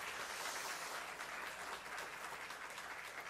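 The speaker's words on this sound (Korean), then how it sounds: "장로님 건강하시라고 큰 박수 한번 해주시기 바랍니다." A church congregation gives a big round of applause, dense sustained clapping from many hands that fills the room evenly and holds steady throughout, with no voices over it.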